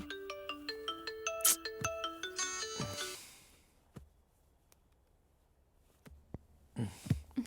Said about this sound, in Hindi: किसका फोन आ रहा है